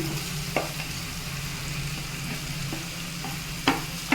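Potatoes tossed into a pan of frying onions sizzle in a loud, continuous hiss, with a few sharp spoon scrapes against the pan as they are stirred.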